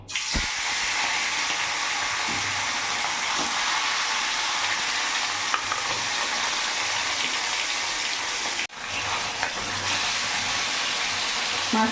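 Tilapia frying in hot oil, a loud, dense hissing sizzle that holds steady throughout, broken by a brief drop near the end before the crackle resumes.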